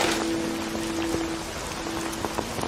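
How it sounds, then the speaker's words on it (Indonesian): Heavy rain pours steadily on outdoor surfaces, a dense continuous hiss with scattered sharper drop impacts and a faint tonal hum underneath. "berjalan-jalan di tengah derasnya hujan"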